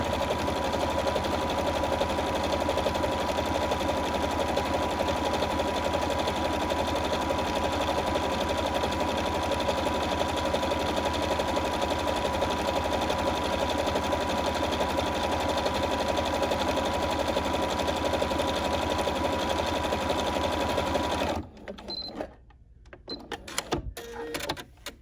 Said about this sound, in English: So let's stitch this little bugger out.